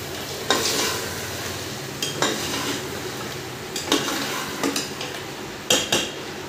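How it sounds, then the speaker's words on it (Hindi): Goat meat fries in a pan over a low flame, with a steady sizzling hiss and repeated scrapes and clinks of a spoon stirring against the metal, close and clear, with no voices. "इसको अच्छी तरह भून लेना है और इसको अच्छी तरह हिलाते जाना है ताकि ये नीचे ना लग जाए"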